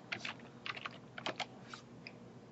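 Quick bursts of computer keyboard typing as an ipconfig command is entered at a command prompt, a few short clusters of keystrokes close up against a quiet room.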